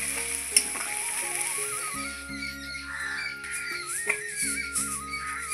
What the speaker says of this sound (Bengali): এরপর ভালোভাবে একটু ঘেটে নিচ্ছি।